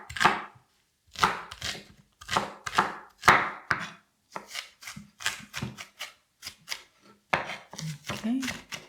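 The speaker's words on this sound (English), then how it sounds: "chopping some onion and chopping some garlic and ginger as well" A knife chops a small onion into cubes on a cutting board, crisp rhythmic bursts of strokes with short pauses between, close and clear with no talking.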